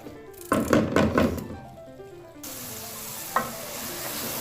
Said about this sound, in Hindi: इसकी कर लेंगे अच्छे से भुनाई और सब्ज़ी वाली हो जाएगी रेडी